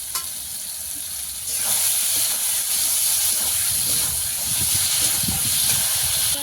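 Potatoes sautéing in a pan with a paste of ground cumin, coriander and a little black pepper, a loud continuous sizzle that swells after a quieter start, with soft stirring scrapes and no speech.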